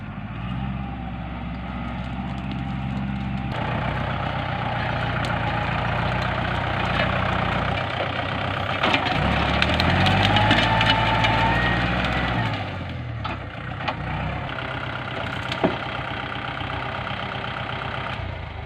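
An excavator's heavy diesel engine idles steadily with a low, continuous rumble, swelling slightly midway, with faint clanks and knocks in the background.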